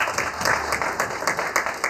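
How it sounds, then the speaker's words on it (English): Audience applause at a public debt conference session, a steady wash of many hands clapping together through the whole stretch, moderately loud with no voices over it. "Another big round of applause, please."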